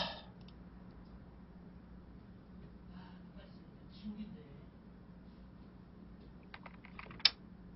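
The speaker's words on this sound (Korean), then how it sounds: "키보드가 아예 안 눌러진다니까?" Computer keyboard typing during a StarCraft practice match, soft continuous key clicks under a low steady hum, with a few sharper taps near the end and someone talking.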